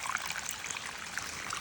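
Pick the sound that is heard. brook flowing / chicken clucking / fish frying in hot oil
brook flowing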